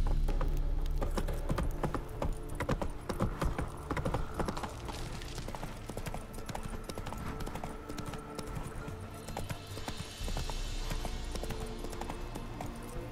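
Geralt's horse Roach clip-clops along in The Witcher video game, a steady rhythmic run of hoofbeats under a continuous mix of ambient game sound and music.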